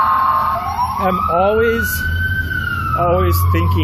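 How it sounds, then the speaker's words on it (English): A police car siren passes nearby outdoors, loud and wailing as its tone rises and sweeps, while someone talks over it. "Yeah, that was actually a police car."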